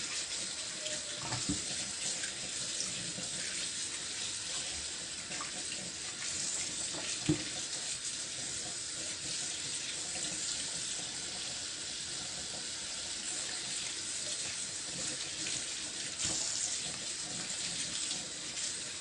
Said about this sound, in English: when you are running the water, just be fast because you don't want your chicken to sit in the water